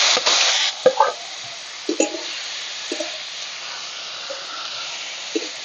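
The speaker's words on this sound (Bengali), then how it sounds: "দশ সেকেন্ড মতো একটু ভেজে নিয়ে দিয়ে দিচ্ছি পোড়ানো পেঁপেগুলো" Roasted papaya drops into oil already frying bay leaves, dried red chillies and whole garam masala: a loud burst of hissing sizzle, then scattered spoon knocks and stirring scrapes as the frying settles to a quieter hiss.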